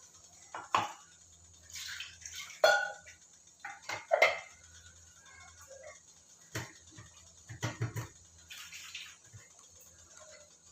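Water sloshes and splashes in short, irregular bursts as a kitchen mixer jar is rinsed while making tiffin sambar, with clinks of the jar against other vessels in a quiet room.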